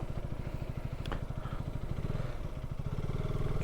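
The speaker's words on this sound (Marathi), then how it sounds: "तर शेवटी आपली बाईक राईड चालू झालेली आहेत" A motorcycle engine running at the start of a group ride of about sixty riders, a steady rapid low chugging throb that swells louder toward the end, close by with no talk.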